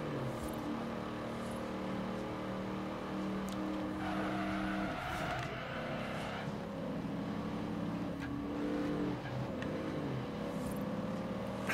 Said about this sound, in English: It's an amazingly great sounding car.